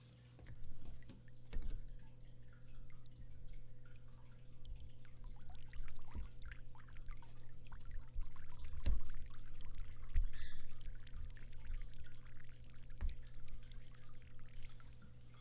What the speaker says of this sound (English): you'll screw your hose onto the adapter to easily fill up your birth